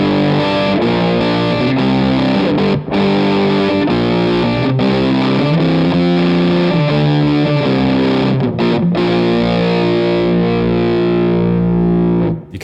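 A guitar plays through a 29 Pedals FLWR overdrive set to its low pass filter shape, a dark, thick distorted tone with sustained chords and short pauses, loud and up close with no talk.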